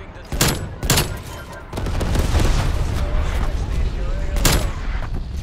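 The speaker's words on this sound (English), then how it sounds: "Incoming artillery." Artillery strike explosions in the Call of Duty Black Ops Cold War video game, several loud booms and rumbling blasts striking in quick succession amid continuous battlefield noise.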